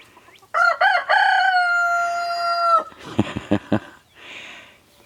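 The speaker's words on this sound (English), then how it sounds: "You ever notice roosters turn north, south, east, west, and crow?" A loud, close rooster crow, one long drawn-out call, followed by a few short clucks and then quiet.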